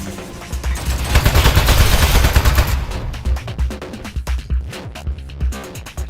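Turret gunfire in Aperture Desk Job, loud rapid-fire bursts of shots, dense at first and then breaking into scattered, punchy single shots and short volleys.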